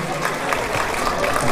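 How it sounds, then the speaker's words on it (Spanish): Spectators at a primary school football match in a regional Mixe tournament clap in a steady, dense patter, mixed with crowd noise and a voice talking over it. "Y vengan los aplausos, público presente."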